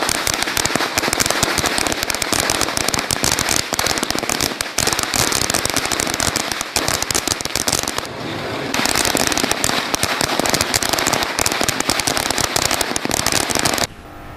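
Firecrackers burst in rapid, dense strings of loud sharp cracks near a bus stand during a celebration, nearly continuous, with a brief lull midway before the barrage resumes.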